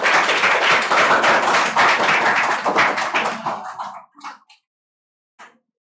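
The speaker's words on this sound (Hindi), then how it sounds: "इनके लिए जोरदार ताली हो जाए।" An audience of students claps at a school Teachers Day celebration, giving a few seconds of dense, lively applause that thins out into scattered last claps before falling silent.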